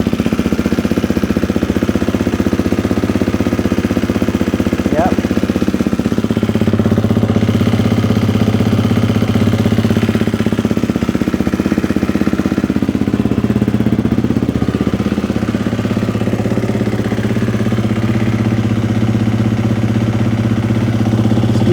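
A fairly new motorcycle with about 65 hours and 1,027 miles idles steadily in a shop, its continuous low engine drone loud and close, with no talking.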